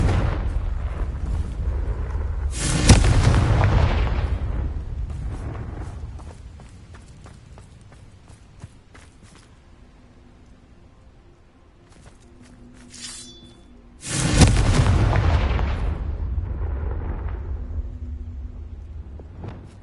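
Spell explosions from the video game Hogwarts Legacy: two loud, heavy booming blasts with rumbling tails, one early and one later, separated by quieter footsteps and faint game ambience.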